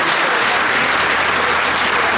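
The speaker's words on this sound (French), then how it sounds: "Vous pouvez les applaudir." A ceremony audience in Valence, France applauds a newly presented political list at a New Year's greetings event, dense sustained clapping from a large crowd filling the room at steady loudness with no break.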